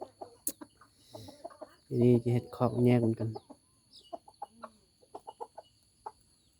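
Chickens clucking in a pen, short scattered clucks near the start and end around a loud, drawn-out crowing call in the middle, with a person talking briefly between them.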